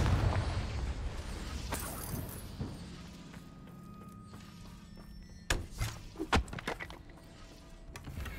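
A Confringo fire spell cast in the Hogwarts Legacy video game lands as a series of sharp, close thumps and bursts, with a low rumble beneath the game's ambient sound.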